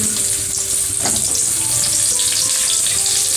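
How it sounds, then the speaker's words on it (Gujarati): Whole okra sautés in hot oil, giving off a steady crackling sizzle with a light stir and clink partway through, close and fairly loud from start to end. "તો આપણે હવે ભીંડો સાતળવા માટે ભીંડાને આપણે એડ કરશું"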